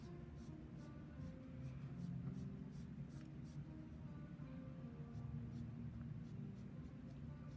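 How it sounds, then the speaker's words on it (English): A black charcoal pencil scratches across paper in short repeated strokes while adding fine hairs to a drawn wolf's ear, a soft, close, dry rasp over a quiet room. "This is my black charcoal pencil."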